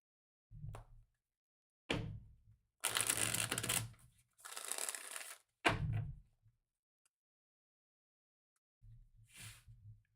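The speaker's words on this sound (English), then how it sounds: "Let's do one more shuffle." Cards are shuffled in several short bursts: quick riffling flutters and soft thumps of the deck, separated by silent pauses.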